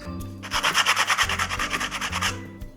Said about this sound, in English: The piece of sandpaper we'll be using is an 80 grit piece